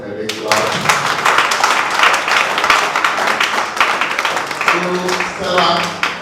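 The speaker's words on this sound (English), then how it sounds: "Let's give them a big clap." A workshop audience claps for several seconds in a dense, loud burst, with voices mixed in among the applause.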